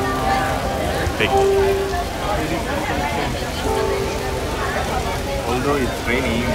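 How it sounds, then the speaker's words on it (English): Rain falls outdoors during a Chanukah gathering, a steady patter running under close, ongoing conversation from several people. "Although it's raining, but doesn't matter."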